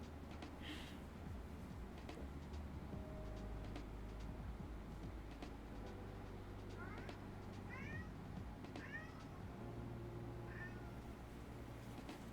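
A cat meows several times, short rising cries spaced apart over a low rumbling background like a passing train, with faint talk at moments.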